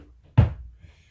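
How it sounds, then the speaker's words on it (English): A single heavy thud against a door, close and booming, quickly fading into silence with a faint rustle after. "Then banging on the door."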